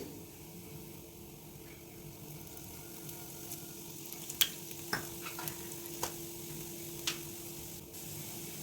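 Two green chillies fry in oil in a pan, producing a soft, low, steady sizzle with scattered light ticks and clicks from stirring.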